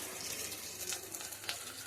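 A paste of onion, garlic, ginger and chili sizzles in a pan for fish curry, a soft steady frying hiss with faint crackles, heard up close and alone.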